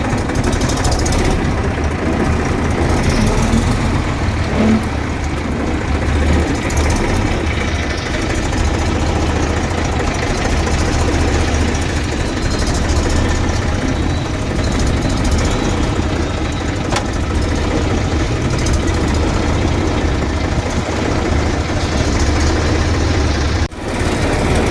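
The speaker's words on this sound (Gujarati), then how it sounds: "તો ચાલો આપણે ટ્રેક્ટર વોશ કરવા લઈને નીકળીએ." A tractor engine idles steadily nearby, its body caked in Holi colour powder before being driven off for a wash. A continuous low rumble runs throughout at an even level, with no voices.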